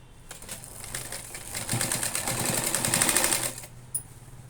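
A sewing machine stitches a strap onto a simple cloth bag, its needle rattling in a fast, even burst that builds for a few seconds and then stops, close and clear.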